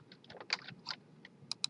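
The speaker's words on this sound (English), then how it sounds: "on the keyboard I love hitting Control A" Computer keyboard keys tapped quickly for a shortcut, a short cluster of crisp, close clicks with no talking.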